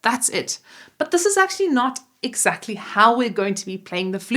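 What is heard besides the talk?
No distinct noise like a dog, phone or traffic.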